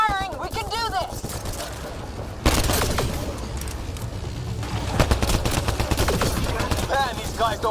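Heavy gunfire in Mass Effect: Andromeda, rapid machine-gun bursts and booms swelling sharply partway through and continuing loud, with game voices talking over the shooting.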